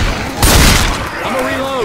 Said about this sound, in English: Who in the hell just shot me?